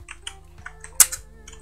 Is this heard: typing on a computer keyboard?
yes